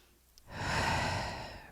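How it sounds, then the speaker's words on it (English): Deep, slow breath during a yoga class, a soft broadband airy inhale swelling up after a quiet start and holding steady before easing off, close and alone with no talking. "Breathing nice and deep."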